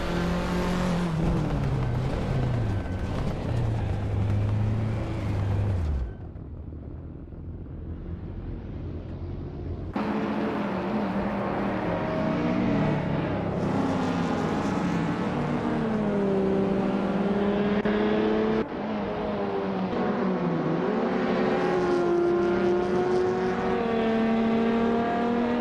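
Race cars in a racing video game, among them a 1988 Porsche 944 Turbo S, roar steadily with engines revving and shifting pitch, loud and close, with brief cuts between segments and no talking.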